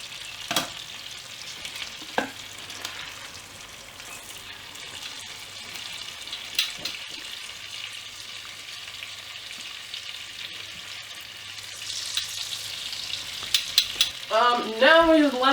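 Schnitzel frying in a pan of lard or butter, a steady close sizzle and crackle with occasional louder pops, swelling into busier spattering toward the end.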